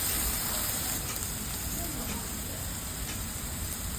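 Onions and ginger-garlic paste fry in a pan for chana dal, giving a dense, steady sizzling hiss that stays loud and even throughout.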